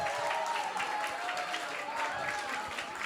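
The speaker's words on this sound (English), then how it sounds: "a big round of applause for the entire class" A temple audience at ISKCON Silicon Valley claps for a children's class, giving a steady, dense round of applause for about three seconds with a faint tone and some crowd murmur mixed in.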